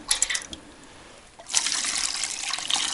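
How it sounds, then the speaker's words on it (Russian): Water runs and splashes into a pot holding perch, pike head and potatoes for fish soup, a steady pour that pauses briefly and then resumes louder, close up in a quiet room. "Заливаем водой."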